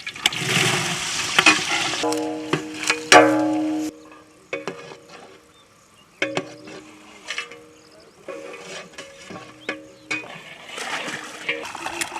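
Chopped onions sizzle and fry in a pan with green chillies for turkey biryani, with intermittent stirring clatter and short bursts of speech in between.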